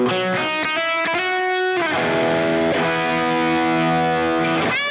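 A Steelyjam G01 guitar with an all-metal body is played through overdrive, ringing distorted chords with sharp attack, a sustained held chord, then a slide into a new chord, loud and alone.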